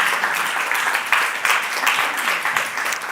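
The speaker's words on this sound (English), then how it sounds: "they deserve a round of applause," Conference audience applauding steadily, a dense wash of many hands clapping at even loudness throughout, with no voices over it.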